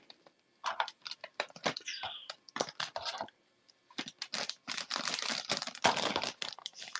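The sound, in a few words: Jango Fett action figure bagged in plastic bag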